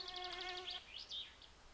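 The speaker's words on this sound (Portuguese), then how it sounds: "Por isso tá esse barulhinho das moscas" Flies buzz inside a house in the game My Summer Car, a faint, thin, wavering drone with quick pulsing wingbeats that comes and goes over a quiet background.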